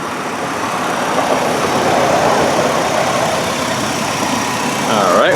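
A 2001 Chrysler Concorde idles with the hood open, a smooth, even low engine hum that stays steady and close throughout, alone without talking.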